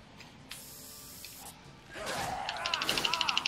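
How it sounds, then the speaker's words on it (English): Spray can hissing onto a sign in the video game Dead Rising 2, a faint hiss building into a louder burst with quick rapid pulsing rattles near the end. "Is it Zombrex that you're spraying out?"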